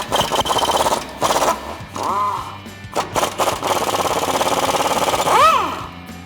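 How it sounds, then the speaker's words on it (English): An impact wrench with a 21 mm socket loosens U-bolt nuts on the rear leaf spring of a 1999-2018 Chevrolet Silverado 1500. Close, loud rattling bursts come in short runs, with one longer hammering stretch near the end. "We're going to be using a 21 millimeter socket and an impact."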